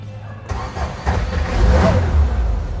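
An old Volkswagen Safari 182 with its ignition rewired to the panel is started: a brief click, then a few seconds of cranking that builds into a loud, rough mid-pitched engine rumble close by.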